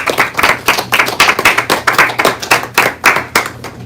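An audience claps steadily to welcome two speakers, Rukmini Walker and Anuttama Dasa, to a talk, with dense, even rhythmic clapping held loud and close throughout.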